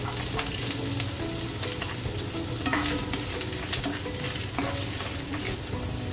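Long strips of garlic and ginger fry in hot reused oil in a pan, a steady close sizzle with occasional stirring scrapes and pops, with no talk.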